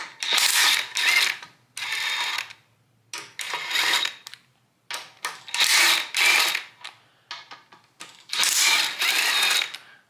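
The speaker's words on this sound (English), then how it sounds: "Gonna take that 10mm. Gonna take all these case cover bolts loose." A ratchet with a 10mm socket clicks in quick bursts while loosening the case cover bolts on a Predator 212 engine. The bursts come close and loud, separated by brief silent pauses.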